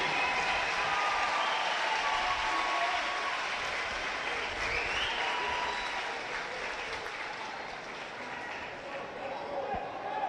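Crowd applause at the Fonacab Junior Cup Final football match greets a substituted Coalisland Athletic player jogging off the pitch, with steady outdoor clapping from the stands that slowly fades over the span.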